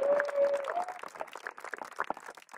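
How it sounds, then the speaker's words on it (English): An audience at a live talk gives a round of applause, a burst of many hands clapping that starts fairly full and thins out, heard at moderate distance. "Let's give those two guys a round of applause"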